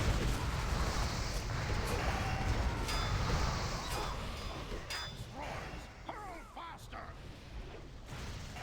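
Booming cannon fire in a fantasy battle video game, with repeated heavy blasts and crashes over a dense, busy battle mix at fairly low volume.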